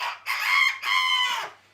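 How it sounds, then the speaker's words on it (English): A rooster crows in the morning, two long rising-and-falling calls in quick succession, loud and close with nothing else around them. "The rooster crowed early in the morning"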